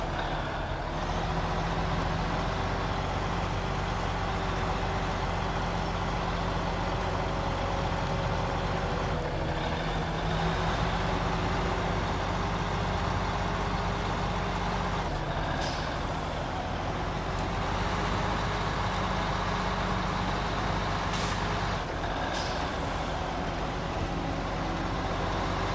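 A heavy truck rumbles steadily along, its engine drone continuous and close with a few clanks and shifts in tone, and no talk over it.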